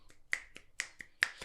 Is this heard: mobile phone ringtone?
no